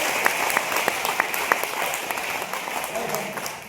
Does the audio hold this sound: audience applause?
yes